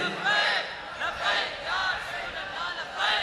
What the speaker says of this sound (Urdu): اے تسی نعرے لا رہے ہو پنڈاں والے